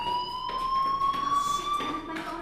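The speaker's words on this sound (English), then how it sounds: "do you hear that fire alarm?" A fire alarm rings in the video game Life is Strange, a steady high electronic tone with harmonics held throughout, loud and continuous under faint background noise.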